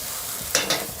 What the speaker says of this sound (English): Get a little sizzle going there.